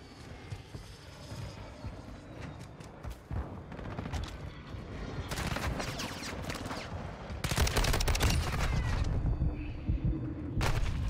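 Dense gunfire in a shooter video game, a steady crackle of shots building into loud, sustained automatic bursts toward the end, heard close.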